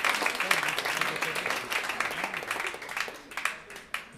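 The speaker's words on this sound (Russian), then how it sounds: "Еще раз ваши аплодисменты, и тебе аплодисменты." Audience applause at an opera night concert, a steady wash of clapping from a crowd that rises and thins with a few sharper claps near the end, with some voices mixed in.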